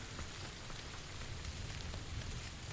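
Steady rain falls in a video game, a dense, even hiss of drops on surfaces that continues without pause at a moderate, distant level.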